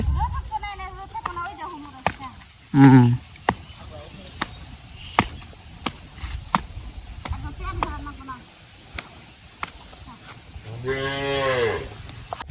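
Cows mooing, one short low call early and a longer drawn-out moo near the end, with scattered sharp knocks and some talk in between.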